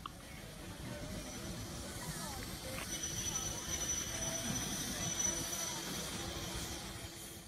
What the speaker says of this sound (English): Passing by the cameras now is the Bressingham owned and recently overhauled LBSCR A1 class numbers B662 Martello, resplendent in the Southern Railway green livery.